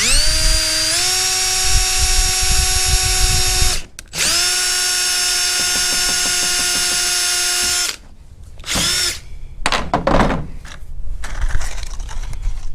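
A power drill drives a tap to widen a hole, with loud whining bursts that rise in pitch as the motor spins up, brief pauses between runs, and clattering tool handling toward the end.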